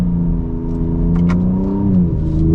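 A 2024 Ford Ranger Raptor pickup engine revs and drones steadily at close range at sand dunes, exhaust in Baja mode, with a throaty note that rises slightly before settling, continuous throughout.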